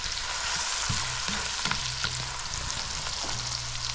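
Chopped onions and garlic sauté in a hot pan on the stove, a constant close crackling sizzle broken by a few soft scraping stirs and low thumps, with no one speaking.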